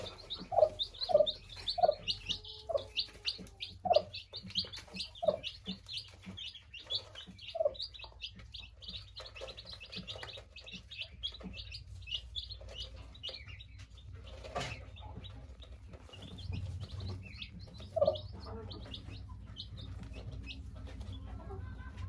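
Turkey hen with her chicks in a poultry pen, giving scattered high chirps and a few soft clucks over a steady low background hum.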